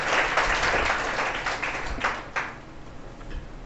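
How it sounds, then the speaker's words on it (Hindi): Audience clapping at a funny physics quiz show, a moderately loud burst of many hands that peaks early, then thins into scattered claps toward the end. "चलिए ताली बजा दीजिए, अब स्टार्ट प्रोग्राम होगा आपका।"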